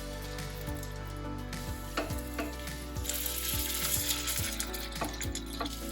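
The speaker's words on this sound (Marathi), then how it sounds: "त्यामध्ये आपल्याला हे कटलेट आता भाजून घ्यायचे. याची बाजू आपण पलटून घेऊ." Vegetable cutlets shallow-fry in oil in a small pan, giving a steady close sizzle broken by repeated sharp clicks and scrapes of a spatula as they are turned.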